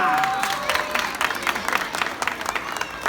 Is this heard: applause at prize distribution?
yes